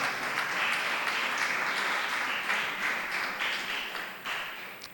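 Church congregation applauding during a Spanish-language sermon: a steady, dense wash of many hands clapping that holds for several seconds and eases slightly toward the end.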